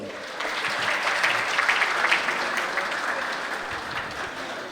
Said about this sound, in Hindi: इस्तकबाल कीजिएगा आपकी भरपूर तालियों में